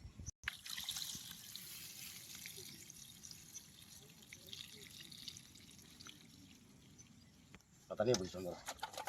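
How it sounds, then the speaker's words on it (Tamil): Water trickles and drips while beef is cooked in a village kitchen, a low steady pour running through most of the stretch, then a louder splashing burst near the end, with voices talking over it. "தண்ணி ஊத்திரு."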